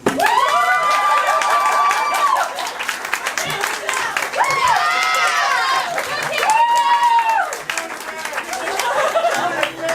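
Audience at a live concert claps and cheers, a loud, dense crowd roar with whoops and high shouts rising and falling over about ten seconds.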